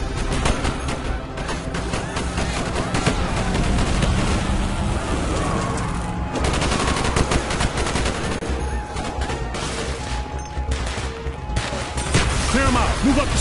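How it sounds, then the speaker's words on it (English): Soldiers' gunfire in the Call of Duty: Black Ops first mission, Operation 40, with dense bursts of automatic rifle fire and shots crackling continuously through a street battle, loud and close, with some crashes and voices mixed in. "Bowman, Carlos, lay down covering fire"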